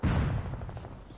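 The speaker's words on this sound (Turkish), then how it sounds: "Silah sesi var yukarıda." Gunfire in a Call of Duty match: a loud, close burst hits at once, then a ragged series of quick shots fades over about a second, with no talking.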